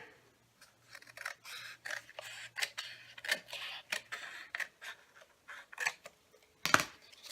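Scissors snip and trim paper for a journal window pouch, a run of short, crisp cuts close by at an uneven rhythm, with a sharper click near the end and no talking.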